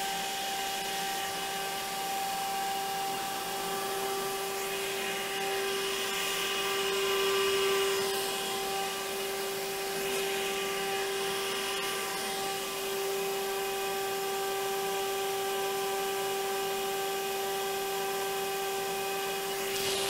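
A CNC router spinning a half-inch solid carbide bit at 25,000 RPM cuts into wood for a sculpture frame, giving a steady, loud high-pitched whine with strong tonal lines that holds alone and unbroken throughout.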